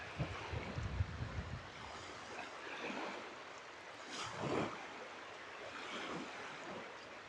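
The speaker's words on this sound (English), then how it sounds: "the sound of the waves, the little, not actually waves are they, they're tiny waves" Small, gentle waves lap against the Mersea Island shore in Essex, a steady soft wash of water with occasional swells and light wind noise, and no voices.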